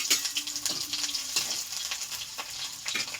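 Cumin seeds and ginger fry in hot oil, giving a steady crackling sizzle with brief stirring scrapes, close and moderately loud, with no voices.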